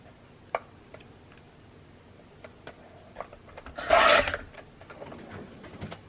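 A blade slices through book cover board along a pencil line, heard as a short, close rasping cut that stands out from soft scattered handling ticks around it.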